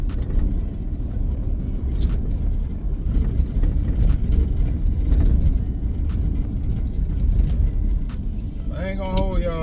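Steady low road rumble and engine drone from inside a moving car on the way to a pickup, continuous and fairly loud throughout, with a brief higher tonal sound near the end.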